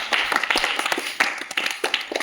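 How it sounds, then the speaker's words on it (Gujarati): Close, lively hand clapping during a slow-motion walking challenge, with sharp irregular claps repeating over a couple of seconds at fairly high volume. "હવે બંટાભાઈ તાળીઓ બજાવ"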